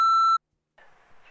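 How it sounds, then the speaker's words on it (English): A single steady electronic answering-machine beep sounds clearly for a moment, then cuts to silence before a voice begins speaking. "Drop one after the beep."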